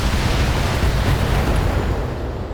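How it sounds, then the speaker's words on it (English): Ammo explosion in the video game Battletech: a loud, sustained roaring blast with a broad rumble that holds steady for a few seconds, with no talking. "Oh, and ammo explosion,"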